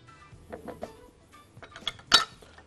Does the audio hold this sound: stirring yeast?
yes